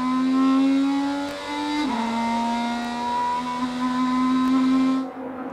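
IndyCar race cars at the 2018 Indianapolis 500 scream past in a loud, sustained high-pitched engine whine, one car's pitch dropping sharply as it goes by before the howl carries on and cuts off near the end.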